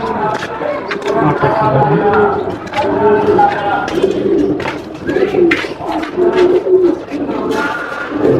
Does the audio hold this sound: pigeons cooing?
yes